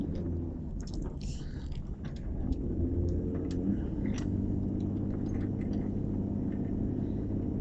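Toyota Land Cruiser 105 Series powering up a hill after a DIY suspension refurbishment, heard as a steady, loud low engine drone and road rumble with rattles and knocks, continuous throughout with no talk.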